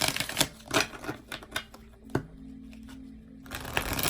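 Oracle cards are shuffled and pulled in a run of sharp, close riffling taps and flicks, followed by a quieter pause and then a few more card sounds.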